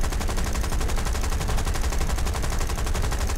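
Sustained rapid enemy gunfire in the War Thunder video game, a dense, loud rattle of shots running unbroken throughout with no pauses.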